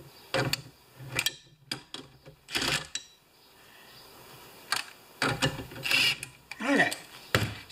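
Socket wrench ratcheting and clicking while adjusting the deck of a yard tractor mower, in short close bursts of metallic clicks with pauses between them.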